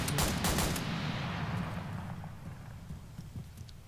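AR10 rifle fire in the game Breaking Point: a quick string of loud, close shots at the start, then a long rolling echo fading away with a few faint distant pops.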